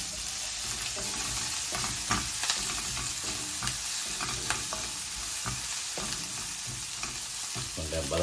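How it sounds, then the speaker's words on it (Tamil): Curry leaves fry in hot oil in a pan for a squid curry, giving a steady crackling sizzle with scattered pops and occasional stirring clinks, with no voices over it. "அதோட நாங்கள் கருவேப்பிலை போடுறோம்."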